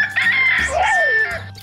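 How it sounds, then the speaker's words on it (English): A rooster crows once, loud and close, giving a long bright call that rises and then falls away, with no talking over it. "That's the rooster crowing."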